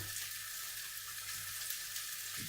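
Steady frying sizzle of turkey meatballs browning in a frying pan, a continuous crackling hiss with no voices, holding even in loudness throughout.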